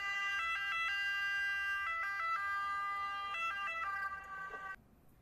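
An emergency siren wails in a repeating two-tone pattern, loud and close, then cuts off abruptly near the end.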